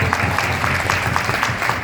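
Continuous applause from an audience at a business gathering in a Delhi hotel, a steady broadband clatter of many hands clapping without pause for the full stretch.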